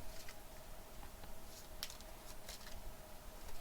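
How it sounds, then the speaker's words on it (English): Playing cards from a board game shuffled by hand, with soft dry papery riffles and snaps at close range in a quiet room. "At random, shuffle them."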